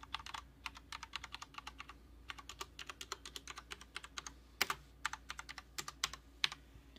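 Keys on a Corsair K70 keyboard are pressed in quick irregular bursts of crisp clicks, close and fairly quiet, with short pauses between clusters and no talking.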